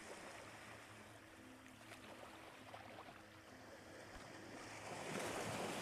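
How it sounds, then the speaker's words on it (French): Lagoon waves advance and retreat softly, with a faint, continuous wash of water and a gentle surge that swells near the end. "Chaque vague qui avance peut te rappeler une inspiration"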